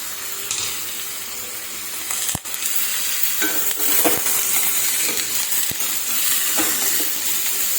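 Sliced onions with a pinch of salt fry in a pan for a mushroom curry, giving a constant bright sizzle broken by a few sharp metallic clicks and scrapes as a spatula stirs them.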